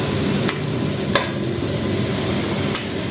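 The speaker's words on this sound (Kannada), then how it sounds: "ಎಣ್ಣೆ ಕಾದಿದೆ ಸ್ವಲ್ಪ ಈರುಳ್ಳಿ ಹಾಕ್ತಾ ಇದ್ದೀನಿ" Onions frying in hot oil in a home kitchen, a steady loud sizzle with faint stirring clinks and a few sharp scrapes, no voice over it.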